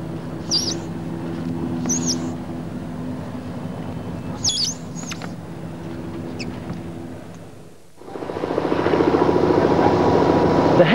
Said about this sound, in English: The helicopter bombardment over Silverstone begins early on race day